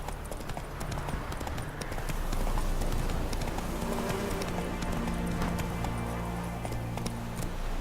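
Roach the horse gallops in The Witcher 3, a rapid steady clip-clop of hooves that picks up and grows louder partway through over a low ambient game background.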